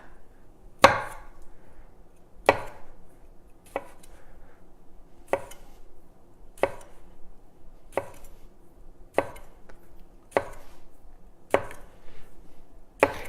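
A knife cutting vegetables in half on a board, about ten sharp, evenly spaced chops ringing out clearly against a quiet background.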